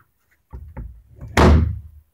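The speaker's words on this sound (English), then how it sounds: "And close the door." A door is pushed shut: a few soft bumps and creaks lead into one solid, loud thud of the door closing nearby, with no talking.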